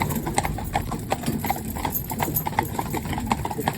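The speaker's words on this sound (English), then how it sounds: "Now these horses are perfectly capable of stopping this vehicle" Hooves of a team of four novice horses pulling a four-in-hand carriage clip-clop in a quick, continuous, overlapping rhythm, close and fairly loud, with a low rumble of wheels beneath.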